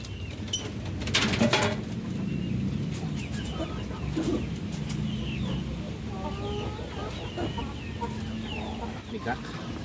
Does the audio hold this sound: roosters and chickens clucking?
yes